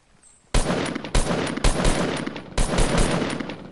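Loud bursts of Fortnite gunfire start after a quiet moment, with several sharp volleys in quick succession and sustained rattling between them, no talking.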